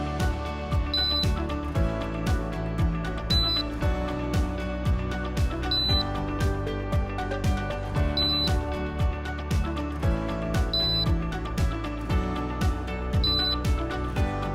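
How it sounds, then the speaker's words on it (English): Short electronic beeps from a DJI EVO 2 drone remote controller during stick calibration repeat at regular intervals of roughly two and a half seconds over steady background music. "Push and hold the command sticks in each of the 8 possible directions until you hear a beep each time."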